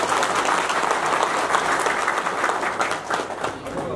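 Audience applause at a Nepali political gathering, a sustained burst of many hands clapping for the whole stretch, fairly loud and dense with slight crowd murmur.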